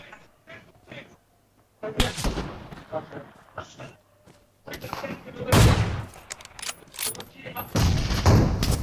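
Rapid bursts of gunfire from a PUBG match, several loud volleys of shots in quick clusters separated by short pauses, with game sounds and a voice talking in between.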